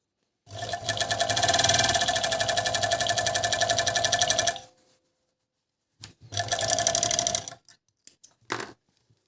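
A Gemsy RXM2000A coverstitch sewing machine running close and loud in a long steady burst of rapid rhythmic stitching, then a pause and a shorter second run followed by a few quick taps.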